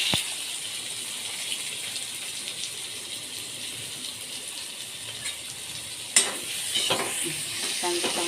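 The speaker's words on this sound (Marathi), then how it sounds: "आता तेल गरम झालं आहे मस्त. आता कांदा टाकून घ्या आपण." Chopped onion frying in hot oil in a pan, a steady close sizzle with a sharp burst as more goes in near the end and stirring scrapes after it.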